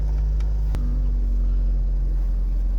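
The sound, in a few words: Austin Allegro engine running after choke turned off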